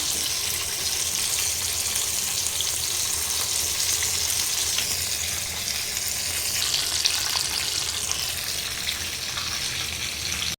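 Tandoori chicken strips fry in hot oil with a steady, dense crackling sizzle that stays loud and close throughout, with no voices.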